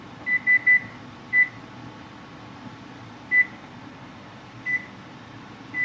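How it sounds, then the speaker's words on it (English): Stove kitchen timer gives short electronic beeps as it is set: a quick run of three, then single beeps at irregular gaps, clear and close over faint room hum. "So I'm gonna actually put the kitchen timer on"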